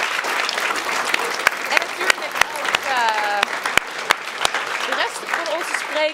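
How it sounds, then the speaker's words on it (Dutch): Warm applause for two speakers at a Dutch talk evening on technology and love, steady clapping from an audience with a few sharp individual claps standing out and brief voices rising over it. "Mag ik een heel hartelijk applaus voor Jan Drost en Roanne van Voorst."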